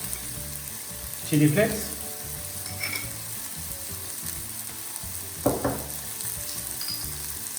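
Onions, tomato and capsicum fry with prawns for devilled prawns in a pan, giving a soft, steady sizzle with a couple of brief stirring bursts and a short spoken phrase over it.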